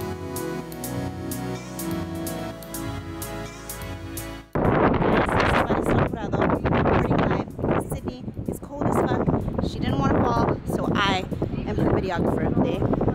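Strong wind on a mountain in Norway roars and buffets the microphone in loud, continuous gusts after a short tonal stretch, with voices mixed in.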